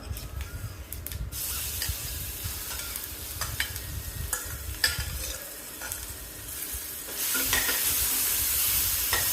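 Ground coriander and coconut masala stirred as it fries in a pan with curry leaves, a steady close sizzle broken by repeated scraping and stirring strokes, alone with no voices.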